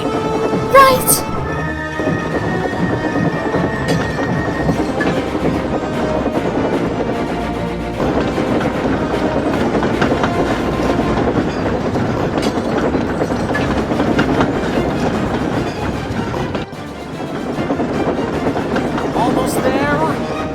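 Animated steam engines hauling train wagons, a continuous rolling rumble with clickety-clack, whistles and a brief dip near the end, under voices and music.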